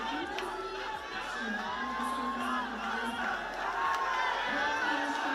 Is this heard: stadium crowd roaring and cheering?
yes